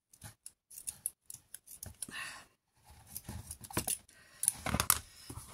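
Scissors snip through a piece of washi tape, a quick series of sharp, close cuts at an irregular rhythm, then a denser burst of crisp snipping and handling.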